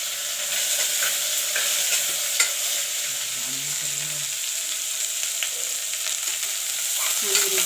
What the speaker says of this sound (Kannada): ಸೊ ಆನಿಯನ್ನು ಕೂಡ ಚೆನ್ನಾಗಿ ಫ್ರೈ ಮಾಡ್ಕೊಳ್ಳೋಣ.